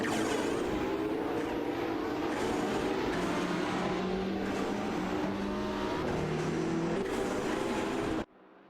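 Race cars in a video game race, including a Ferrari LaFerrari and a McLaren, roaring loudly with sustained high engine tones that shift pitch through gear changes, then cutting off abruptly near the end.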